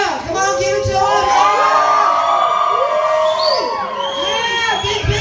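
A large group of children shouts and whoops together in loud, sustained cheering, near and dense, with several high voices rising and falling over the din.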